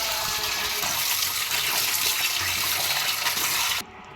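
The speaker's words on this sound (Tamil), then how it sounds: "ஆட்டுக்கறியை மஞ்சளும் தயிரும் போட்டு நல்லா கழுவிக்கணும்" Mutton being washed by hand with turmeric and curd in water, a steady loud splashing and running-water wash that continues without pause, then stops abruptly near the end.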